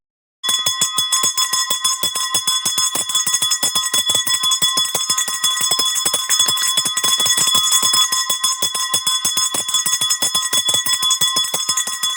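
A loud electric school bell rings continuously for about twelve seconds as the first bell of a new school year at a lyceum, a rapid metallic clatter heard close and alone without voices.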